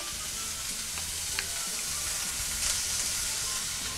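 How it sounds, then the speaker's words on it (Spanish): Chopped onion hitting a hot frying pan with a steady, bright sizzle and hiss that holds evenly throughout, with a couple of faint clicks from stirring and no voices. "Aquí ya estaba caliente la sartén, entonces vamos a agregar cebolla"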